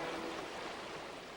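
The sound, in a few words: stream running water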